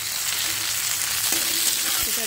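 Onion, tomato, grated ginger and garlic frying in a pan, a loud continuous sizzle that fills the whole moment with faint stirring underneath.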